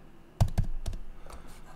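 Several quick keystrokes on a computer keyboard click close to the microphone in a short burst, followed by a couple of softer taps against a quiet room.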